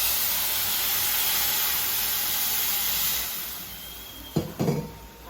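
A steady hissing sizzle fills the clip as hot water is poured into a cooking pan, ending with a couple of clanks.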